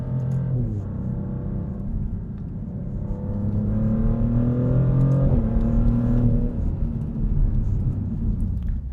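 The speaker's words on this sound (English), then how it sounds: "Pretty good downshifts." A Maserati GranTurismo Trofeo in Corsa mode sends out a loud, close, continuous engine roar while shifting down, with the pitch stepping and swelling through the rev changes.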